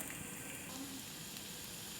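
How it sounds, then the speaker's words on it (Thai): Dried chilies fry with garlic in hot olive oil in a pan, giving a soft, continuous sizzle that stays quiet and steady throughout. "เราใส่พริกแห้งลงไปครับ ไป คลุกเคล้ากับตัวกระเทียมเลยนะครับ"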